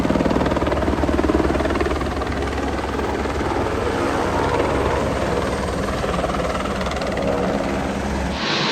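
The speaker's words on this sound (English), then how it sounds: "So with the noise of the helicopter behind," Loud, continuous thudding of a helicopter's rotor with a droning engine at an Alaskan heli-skiing resort, sustained close overhead before cutting off abruptly at the end.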